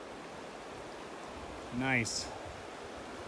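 Mountain stream flowing near the Castleguard River, a steady broadband rush of water filling the background throughout, with a brief spoken word and a short birdlike chirp standing out over it.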